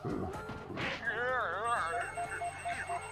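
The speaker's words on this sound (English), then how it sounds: "Of course the phone rings while I'm recording." A telephone rings with a warbling electronic tone, heard indoors under video game sound and a person talking, moderately loud and repeating in short bursts.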